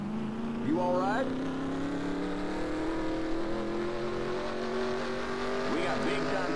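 A race car engine drones steadily with a shifting whine in the NASCAR Racing 2003 video game, the car damaged with motor problems after a crash at Darlington, loud and continuous with someone talking over it.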